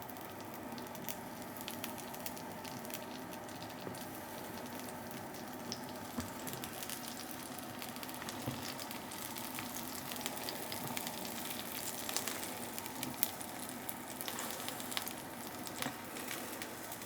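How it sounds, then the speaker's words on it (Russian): Eggplant frying in vegetable oil, a steady, moderately quiet sizzle and crackle that holds evenly throughout, with a few faint pops and no speech. "И сейчас буду обжаривать."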